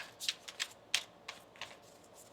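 Quiet, quick riffling taps of tarot cards being shuffled, a handful of soft crisp flicks in irregular rhythm.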